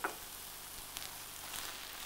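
A coriander mixture sizzles in a hot pan during one brief stir, a faint steady hiss with a soft scrape at the start and no talking.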